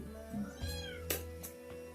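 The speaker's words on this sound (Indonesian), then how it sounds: "Sorry ya, ada anak kucing" A young kitten meows several times indoors, short rising cries at close range against a steady low background hum.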